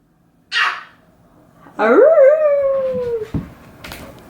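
A dog gives a short yelp, then a long, loud howl that rises and slowly trails off, close by with a little rustling afterward.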